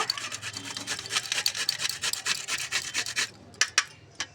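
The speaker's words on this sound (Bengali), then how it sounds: "এইভাবে ঘষে নেব সব মূলোগুলো" Peeled radishes are rubbed by hand over a grater for radish paratha, a steady rasping scrape in quick repeated strokes, close and alone, ending in a few sharp final scrapes.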